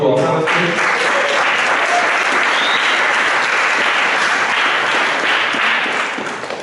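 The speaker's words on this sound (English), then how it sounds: "Can I have a round of applause for our panelists" A college meeting audience applauds the panelists with loud, dense, steady clapping that holds for several seconds before tapering off near the end.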